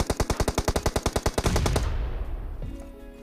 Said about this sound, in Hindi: तभी एक बंदा मेरे पे फायर लेता है।